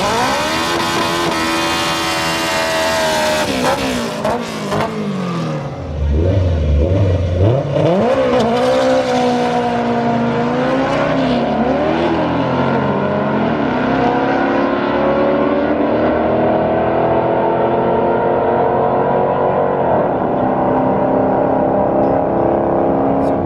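A turbocharged car engine with a turbo that hits the compressor revs loudly and close up. The pitch swings up and down through repeated throttle blips, then holds at high revs.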